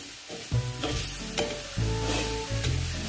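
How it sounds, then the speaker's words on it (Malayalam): Mushroom mixture with pepper and green chili frying in a pan, a continuous sizzle punctuated by several loud scraping stirs and clanks of a utensil against the pan, close and with no talking. "നന്നായിട്ട് ഇളക്കി കൊടുക്കാം."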